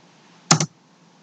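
A quick pair of computer keyboard keystrokes, sharp and close, stands alone against a quiet background hum.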